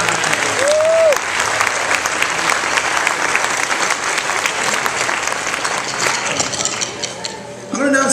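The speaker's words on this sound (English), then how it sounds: "How about a round of applause for those guys?" A school crowd applauds at a morning assembly opening, sustained loud clapping from many hands that carries on for about eight seconds before tapering at the end.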